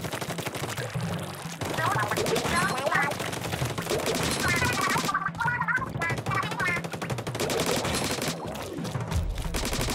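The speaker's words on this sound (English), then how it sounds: "I like the Sploosh-O-Matic is a really good gun" The Sploosh-O-Matic ink gun fires in rapid bursts in Splatoon 3, giving wet, splattering rattles over game sounds and music while a person talks.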